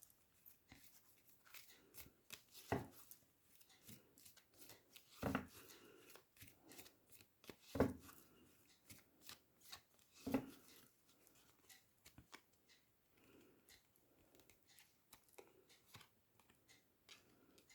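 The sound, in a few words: oracle cards being shuffled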